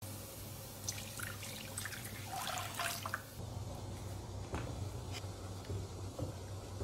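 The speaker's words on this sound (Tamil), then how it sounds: "கருப்பட்டி கரைஞ்சதும் வடிகட்டி எடுத்துக்க போகிறேன்" Dissolved palm sugar syrup strained through a sieve while making a sticky glutinous rice cake, giving a steady close trickle and drip of thick liquid with faint splashes over a low background hum.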